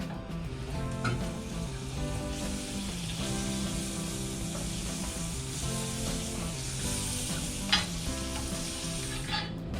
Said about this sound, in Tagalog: gagamitan natin siya ng sizzling plate. Ngayon, ilalagay na natin yung ating butter.